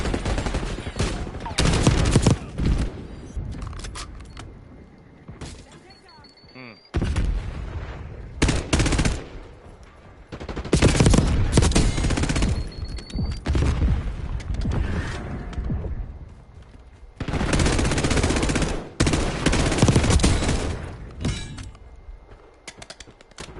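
Repeated bursts of rapid gunfire from a gun in Black Ops 6/Warzone, loud and close, coming in several separate volleys with brief pauses, and a voice speaking at times between the shots.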